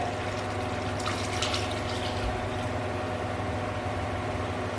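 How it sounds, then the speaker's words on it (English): Water pours steadily into a cooking pot holding chicken, coriander, mint and green chili for haleem, a continuous close rushing wash over a low hum, with no talking. "Add water."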